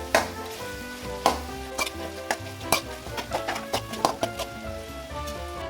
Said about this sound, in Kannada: ನೀಟಾಗಿ ಈ ಥರ ಫ್ರೈ ಮಾಡಬೇಕು